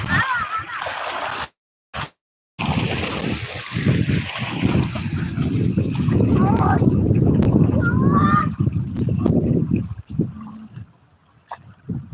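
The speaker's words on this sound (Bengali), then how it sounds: "ও কি জোরে ঢেউ এসছে এবার" Strong water waves rush and splash in a long, loud surge near the recorder, with a brief dropout at the start and a person talking over the water.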